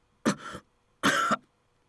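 Two short, close coughs in the visual novel Hakuoki, the first with a trailing rasp and the second slightly longer, separated by a brief quiet pause.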